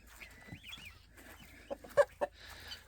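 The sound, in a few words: chickens clucking in a chicken tractor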